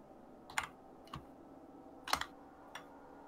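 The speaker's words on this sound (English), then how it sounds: "Are you typing, Winter?" Four short bursts of typing on a computer keyboard, quiet and fairly close, with pauses between each cluster of key clicks and no talking.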